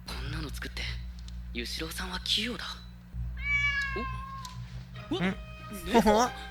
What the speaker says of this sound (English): What if it's just a random cat?